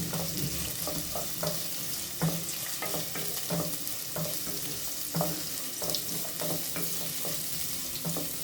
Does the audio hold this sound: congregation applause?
no